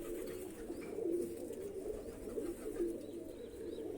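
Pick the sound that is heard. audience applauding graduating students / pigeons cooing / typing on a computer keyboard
pigeons cooing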